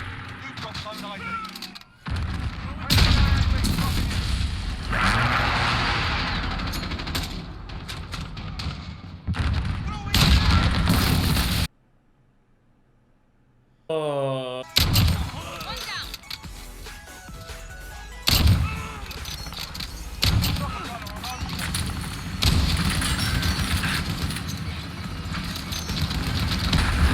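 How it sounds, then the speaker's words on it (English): Friendly precision airstrike explosions in a Call of Duty match boom in a loud, dense cluster of blasts and thumps, broken by a sudden gap of near silence before the barrage resumes, with players talking over it. "Be advised, friendly precision airstrike."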